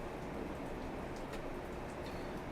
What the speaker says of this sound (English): It is raining, and we're enjoying the rain.